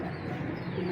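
A purple-shaded pigeon gives a soft, low coo, close and faint, lasting about a second with no other sounds.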